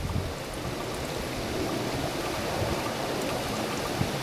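Water is pushed through a water filter outdoors at a wild campsite, giving a continuous, even rushing and trickling hiss that holds steady throughout, fairly close and unbroken by any talk.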